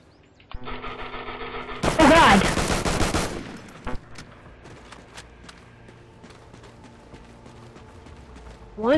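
Rifle shots from a video game in a brief loud burst of rapid gunfire around the two-second mark, followed by quieter mechanical clicks and clatter with game sounds and talk in the background.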